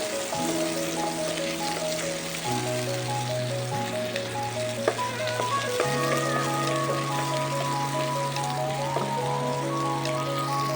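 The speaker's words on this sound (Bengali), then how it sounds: "পেঁয়াজটা একটু ভালো করে ভেজে নেবো" Diced onions frying in hot oil after whole spices for an egg, potato and onion curry, a steady close sizzle with faint crackles, no voices.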